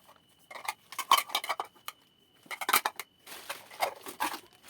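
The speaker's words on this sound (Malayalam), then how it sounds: "ഇത് കുറച്ച് പഴയ പാത്രങ്ങളാണ്" Old metal pots and lids clink and clatter in short bursts of handling, bright and close, with quiet pauses between the groups of knocks.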